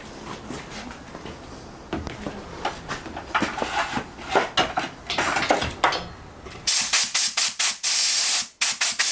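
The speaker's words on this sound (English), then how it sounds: "personally, I use compressed air" Compressed air blasts clean an oxy-propane cutting torch tip in repeated short hissing bursts, close and irregular, growing into louder sharper spurts toward the end.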